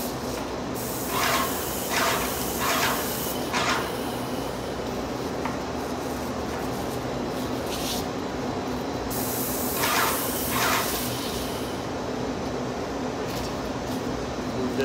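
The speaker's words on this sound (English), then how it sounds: "we will spray the edges of the door, I'll spray the top" A paint sprayer hisses in a steady continuous spray while coating the edges of a door, with a few brighter bursts of spray sounding close and fairly loud throughout.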